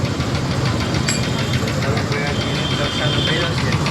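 A Honda Activa scooter engine runs steadily after a carburetor repair, a constant close mechanical drone with a low rumbling knock that holds level throughout.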